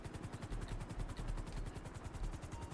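A SuperVolito Carbon luxury helicopter in GTA 5 Online beats steadily with rapid, even rotor thumps over a constant engine whine, heard from close by with no talking.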